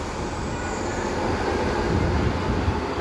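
Former ScotRail Northern train 170456 rumbling steadily at Doncaster station, a continuous loud broadband rail roar with low wheel and engine drone throughout.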